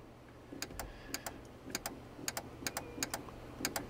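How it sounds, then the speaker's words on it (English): A Peterbilt 567 truck horn relay clicks in a rapid series of light, sharp clicks in quick pairs and bursts, close by and faint against a quiet background. "we have our relay clicking"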